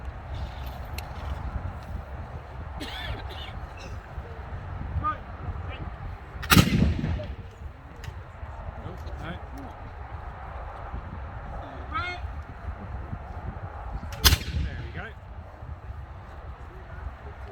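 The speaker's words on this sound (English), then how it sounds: "Most continue to use smoothbore muskets for that very same reason, the rapidity of the fire." Two sharp, booming smoothbore musket shots ring out several seconds apart at a Napoleonic re-enactment drill, each trailing off over a steady outdoor background with talk.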